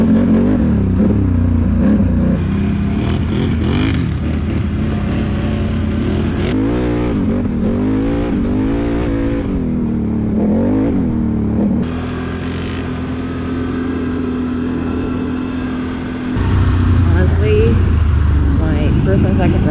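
Can-Am Outlander 570 XMR ATV from 2022 riding downhill over rocky ground, its engine rumbling steadily close by with shifting revs, and a person talking over it throughout.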